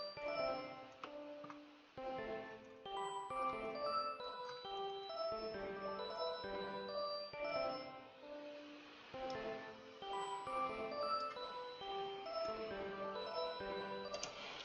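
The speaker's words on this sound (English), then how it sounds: "the first melody and instrument that I started off with was Analog Lab Pluck" Bright plucked analog-style synth melody from Analog Lab, playing a bouncy, cheerful line of short tinkling notes over a soft backing, steady and up close with no voices.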